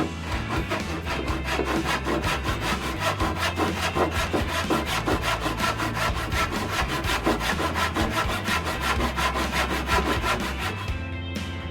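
A handsaw cuts through wood in rapid, steady back-and-forth strokes while a mask shelf is built, a loud, continuous rasping rhythm up close with no talk.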